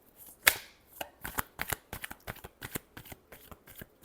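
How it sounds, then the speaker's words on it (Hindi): Close, crisp shuffling of tarot cards, with a sharp snap at the start followed by a quick irregular series of papery flicks and riffles, without talk. "एरीज के लिए लास्ट शफल।"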